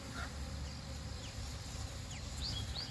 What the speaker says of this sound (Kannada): ಇದು ಜೇನು ಹುಳಗಳು ಕೂಡ ಇದೇ ರೀತಿ ಪರಾಗಸ್ಪರ್ಶ ಮಾಡ್ತವೆ.